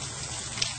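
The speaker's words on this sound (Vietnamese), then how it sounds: "Bây giờ mình lại xả nước các bạn ạ. Đây mình sẽ xả nước như này." Tap water runs steadily over salted pig intestines being rinsed in a kitchen, a brief close gush of flowing water with a couple of small splashes near the end.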